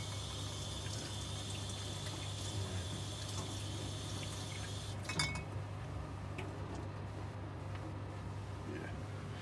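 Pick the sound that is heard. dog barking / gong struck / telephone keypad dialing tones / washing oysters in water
washing oysters in water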